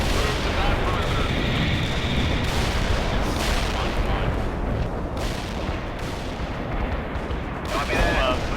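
Heavy bomb-strike explosions roll and rumble through a battlefield in the strategy game World in Conflict, a dense, loud wash of blasts and booms that barely lets up, with radio-style voice chatter mixed in.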